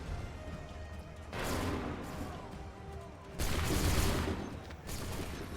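Musket volleys ring out in an Assassin's Creed III battle, with two loud broadband bursts of massed fire about two seconds apart and a third starting near the end, over a steady background rumble.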